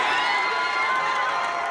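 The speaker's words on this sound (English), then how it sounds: "Lindsay brings Camden and Riley to all the baseball games as they cheer on number 6 from the stands with all the other" Dense, steady roar of a huge baseball stadium crowd cheering from the stands, about 35,000 fans, a continuous wash of voices and shouts with children's cries mixed in, loud and unbroken.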